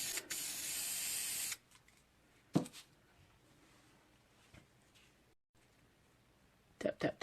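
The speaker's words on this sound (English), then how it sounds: "I'm going to spray a little bit of that fluorescent pink." A can of fluorescent pink spray paint releases one steady hissing blast lasting over a second, followed by faint taps and handling noises, then a few short clicks near the end.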